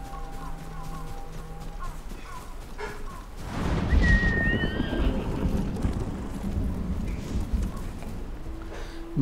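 A horse ridden in Ghost of Tsushima, with brief neighs and clip-clopping hooves against faint music and effects, then a louder rumbling surge of movement and ambience midway that holds to the end.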